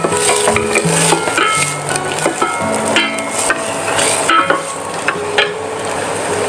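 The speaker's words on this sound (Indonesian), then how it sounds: "Minyak pun dah panas. Kita masukkan bawang yang dah kita potong tadi . Tumiskan bawang dengan bawang putih." Chopped onion and garlic sauté in hot oil, a steady bright sizzle with occasional clinks and scrapes of a utensil stirring the pan, close and continuous throughout.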